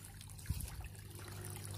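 Water trickles steadily from a running koi pond filter, a soft continuous burble with a slight splash near the start and no voices.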